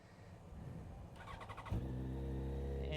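A motorcycle being jump started: a brief whirring crank is followed by the engine catching with a thump and then settling into a steady, close idle rumble.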